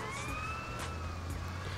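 A police car siren in GTA San Andreas wails in a steady rising and falling sweep over low engine rumble, moderately loud and close, with no talk over it.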